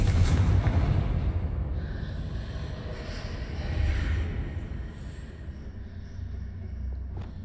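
Confringo spell blast in Hogwarts Legacy, a heavy rumbling explosion that starts loud and rolls on as a sustained low roar, fading slightly across several seconds with no voices.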